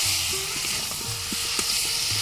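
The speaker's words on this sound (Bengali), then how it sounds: "ভালো করে কষো।" Potatoes with salt, turmeric and chili powder frying in a pan for a village-style egg curry, a steady broad sizzle with a few soft scrapes of stirring throughout.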